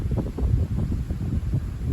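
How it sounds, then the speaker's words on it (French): Steady west wind blowing across open fields on a showery March day, a constant low rumbling buffet against the microphone, loud and unbroken. "On a pas mal de vent là."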